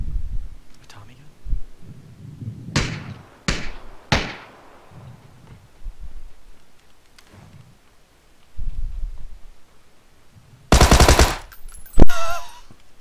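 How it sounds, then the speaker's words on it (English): Tommy gun fire in the video game PUBG: several sharp single shots early on, then a loud rapid burst near the end, with quiet talk and low background rumble between the shots. "A Tommy gun?"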